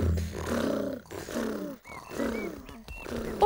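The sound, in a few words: cartoon characters imitating a happy tiger purring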